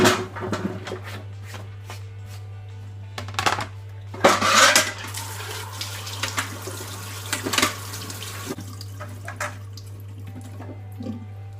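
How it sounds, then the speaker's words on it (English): Cauliflower is rinsed under a running tap in a metal draining board from IKEA, water splashing with metallic clanks and knocks over a steady low hum, close by and without speech. "So I'm just gonna rinse off the cauliflower."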